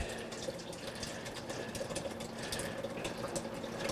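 Curd and whey mixture for fresh ricotta poured into a cheesecloth-lined sieve over a bowl, a steady wet splashing and trickling of draining whey running continuously at close range with no talk.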